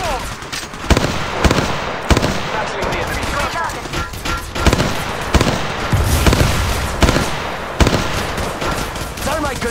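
Repeated bursts of gunfire in the mobile battle royale game Apex Legends Mobile, rapid automatic volleys and sharp single shots loud throughout, with a voice talking over the fighting.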